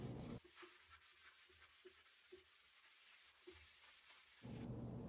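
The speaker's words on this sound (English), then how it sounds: "I'm going to finish it off with a Grit 500 sanding pad" Steady rhythmic sanding, a 500-grit sanding pad rubbed back and forth against a wooden tool handle in quick even strokes, close up and alone.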